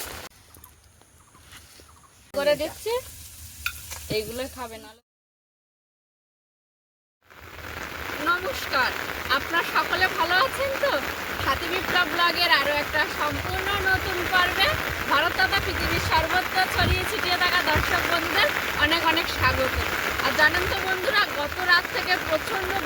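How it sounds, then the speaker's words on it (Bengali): Heavy rain pours down outdoors over flooded fields, a steady, dense hiss that fills most of the recording after a short pause. A few fowl-like calls are heard before it starts. "বৃষ্টি হচ্ছে আর সেই বৃষ্টির কারণে আকাশ বন্যা হয়েছে"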